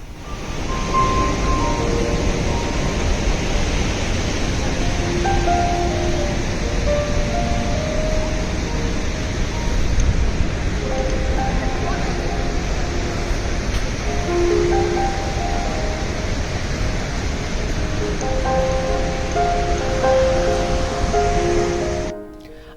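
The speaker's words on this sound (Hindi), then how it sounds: "झरने की जो तेज़ आवाज़ है ना, वो हमें सुनाई दे रही है" Nuranang waterfall roaring in the mountains near Tawang, a loud, dense and unbroken rush of falling water that holds steady throughout before cutting off at the end.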